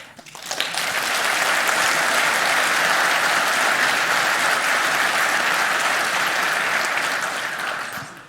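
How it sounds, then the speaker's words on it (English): A conference audience at a security talk claps in a dense, sustained round that swells within the first second, holds loud and even, then tapers off near the end. "I'm gonna send them this clip of you clapping"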